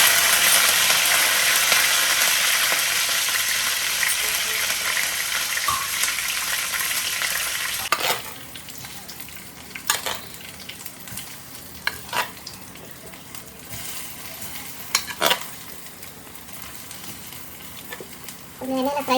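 Curry leaves hit hot oil in a pan with a loud, dense sizzle for the first eight seconds, then the frying settles into a quieter crackle broken by scattered sharp pops and spatters.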